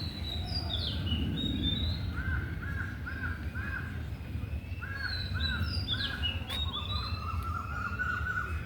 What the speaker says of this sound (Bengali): অনেক পাখিও আছে